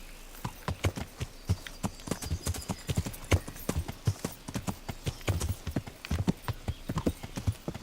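A horse ridden in the video game Kingdom Come: Deliverance gives a steady, fast clip-clop of hooves, rhythmic and fairly close, continuing throughout with no talk over it.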